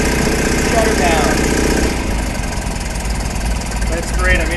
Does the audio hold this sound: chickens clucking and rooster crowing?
no